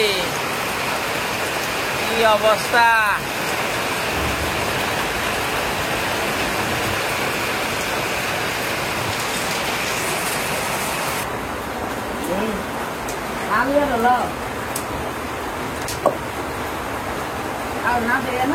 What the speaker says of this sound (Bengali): বৃষ্টি রে বৃষ্টি রে হাই রে বৃষ্টি